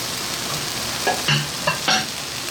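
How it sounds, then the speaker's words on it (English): Beef and vegetables are stirred together in a hot pan for pepper steak: a constant sizzle with a few sharp scraping clatters bunched near the middle of the short burst. "We're going to put our veggies back into this pan like this"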